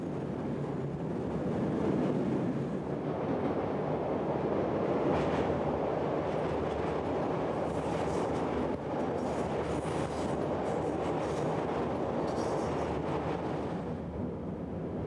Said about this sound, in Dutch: Op deze plaats duiken de treinen nu in de viersporige Willemstunnel.